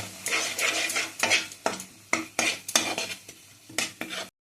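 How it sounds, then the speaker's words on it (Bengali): Spoon repeatedly scraping and stirring eggplant with cumin powder in a hot frying pan for begun sundori, a rhythmic series of close, loud scrapes over a soft sizzle. "দিয়ে এটাকে আমি নাড়বো।"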